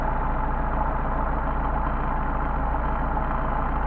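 A Mercedes 190SL engine with Solex carburetors idles steadily at about 700 RPM after a hot start, giving a close, even low rumble that holds constant throughout with no voices.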